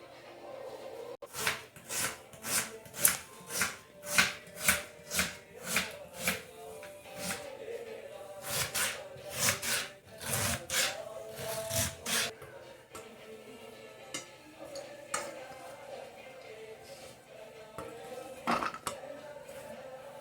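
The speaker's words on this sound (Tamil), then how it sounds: "இந்த ஸ்டஃபிங்க்கு தேவையான வெங்காயம் மிளகாலாம் கட் பண்ணிக்கலாம்." Onions and chilies chopped for a stuffing for aloo paratha and mirchi vada, a steady run of sharp knife knocks on a board, close and fairly loud, then softer clatter and scraping.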